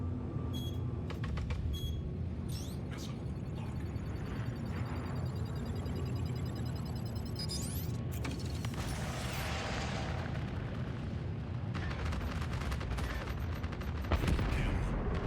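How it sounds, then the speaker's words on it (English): A torpedo launches from a Vanguard Harbinger in Star Citizen amid a dense run of booming weapon fire and explosive bursts, loud and continuous without talk, with a sharp whooshing sweep partway through. "I'm just gonna launch my last torp at it"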